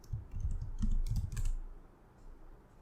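Keys clatter on a computer keyboard as code is entered, a quick run of close, dry taps for about a second and a half, then near silence.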